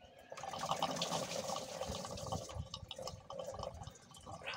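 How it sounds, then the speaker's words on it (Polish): Coolant dripping and trickling out of a 1989 Volkswagen Passat 1.8 engine, a steady close-up patter of liquid running into a container with no talking. "Płyn jeszcze ścieka"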